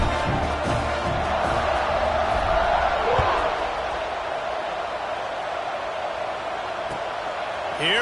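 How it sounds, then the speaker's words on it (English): A stadium crowd in a college football video game, Nebraska versus Penn State, keeps up a steady, loud roar after a score, with a commentator's voice on top throughout. "this crowd is buzzing after that last score"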